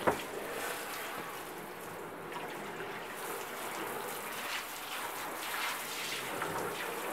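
Water splashes steadily across a bathtub during rinsing after cleaning, a continuous close hiss and patter of spray with no talking.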